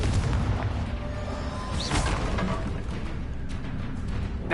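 A Confringo spell from the Hogwarts Legacy video game bursting in a deep booming explosion, followed by rumbling, crackling debris and a couple of sharper pops trailing off over a few seconds.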